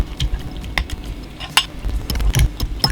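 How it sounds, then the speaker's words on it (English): Blackberries being mashed in a bowl for a drink, giving close, irregular wet squelching and scraping taps in uneven bursts, with no voices. "And I'm going to mash these blackberries up."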